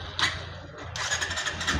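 A Bajaj BS6 motorcycle with a suspected MAP or oxygen sensor fault is started close by; a short starter burst gives way to the engine catching and running with a rough, pulsing idle.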